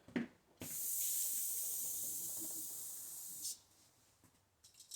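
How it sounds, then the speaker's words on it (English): Brake cleaner sprays in one long, steady hiss lasting about three seconds. It is aimed at a Kohler Command CH16S engine cylinder head on a Cub Cadet 2166 mower, with a few clicks before and after. "I'll spray with some brake clean."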